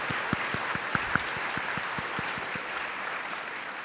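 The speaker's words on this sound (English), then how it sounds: "we give a round of applause to our amazing training officers" Applause from a conference audience at a training event, a steady wash of many hands clapping with a few sharper low thumps scattered through, moderately distant and continuous.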